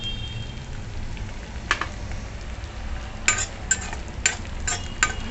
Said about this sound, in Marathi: छान परतवून घ्यायची